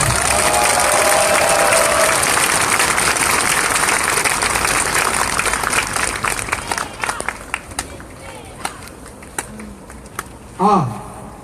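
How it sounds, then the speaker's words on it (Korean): Large crowd of over a thousand at an outdoor protest rally applauds and cheers loudly and steadily, the dense clapping thinning out into scattered claps and a few shouts toward the end. "우리 다시 한번 해솔 양에게 큰 응원의 박수 부탁드립니다."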